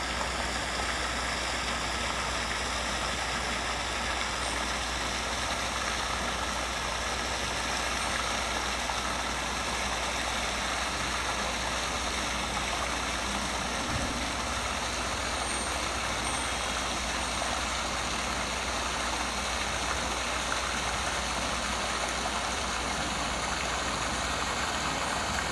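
A Delta airliner from Atlanta at Tampa airport gives off a steady, unbroken engine roar with a thin high whine, holding constant at moderate distance throughout, with no voices.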